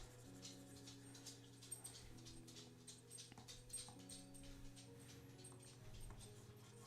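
A puppy whimpering softly indoors, faint high whines over a steady hum of background music and electronic tones.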